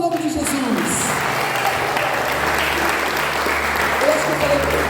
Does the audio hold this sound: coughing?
no